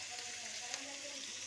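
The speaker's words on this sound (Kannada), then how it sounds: "ಚೆನ್ನಾಗಿ ಫ್ರೈ ಮಾಡಿ" Drumstick pieces fry in a pan with turmeric and chili, giving a steady, close, crackling sizzle that holds evenly through a short moment.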